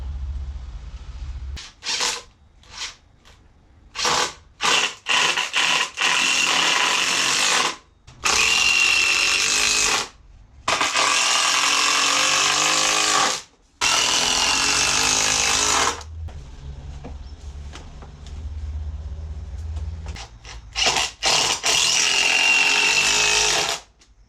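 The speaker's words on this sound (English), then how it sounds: "I'm going to have to trim that rubber." A power tool trims rubber on a fishing rod stand built from an old pallet, whining loudly in bursts of varying length with short pauses between them and no talking.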